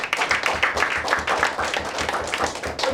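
A live audience claps loudly and steadily throughout a recruitment talk, and the sound is dense and continuous without pausing.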